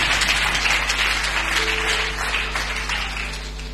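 A church congregation applauds together in one dense, continuous burst of clapping that fills the room, steady and loud throughout and fading slightly toward the end.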